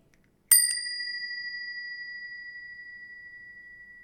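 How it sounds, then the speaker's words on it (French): A single bright strike of a cheap small bell, a sharp metallic ding that rings on with a long, steady, slowly fading high tone, alone with no talk. "Premier instrument de musique de cette vidéo, des clochettes."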